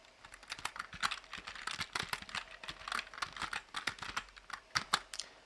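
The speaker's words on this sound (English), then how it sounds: "type the product's name or keyword you're searching" Keys on a computer keyboard are tapped in quick, irregular bursts as a search keyword is entered, close-up crisp clicks with no talking.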